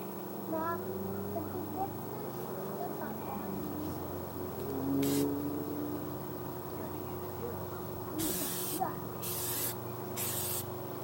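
Several short hissing bursts of spray from an aerosol cleaner can on a B8 Audi A4, one in the middle and a quick series near the end, over a quiet room hum.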